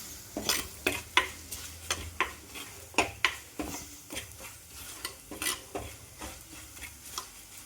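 Turmeric and chilli powder fry in a pan for a Kerala fish curry while a spoon stirs and scrapes in steady rhythmic strokes over a low sizzle, close and fairly quiet, without talking.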